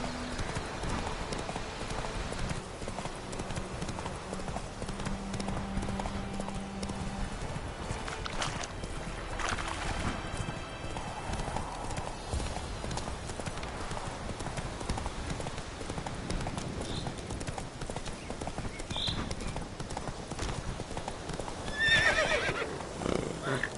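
Steady galloping hooves pound in rhythmic clip-clop from a horse in the video game The Witcher 3, with a brief whinny and snort breaking in, over quiet game ambience and a little speech.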